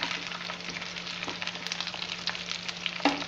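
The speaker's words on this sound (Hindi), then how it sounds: "हमें ज़्यादा नहीं पकाना प्याज और शिमला मिर्च को, बस 2 मिनट ही भूनना है" Chopped onion and capsicum frying in a pan, a soft steady sizzle with light stirring scrapes and a small pop near the end, no voices.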